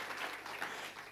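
Church congregation cheering and applauding during a worship service, a brief, steady wash of crowd noise at moderate distance with no distinct claps standing out.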